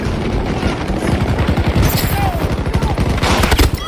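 Sustained bursts of automatic gunfire in the shooter game Battlefield 2042 during a multiplayer match, loud rapid rattling shots with a sniper firing from the side of a building.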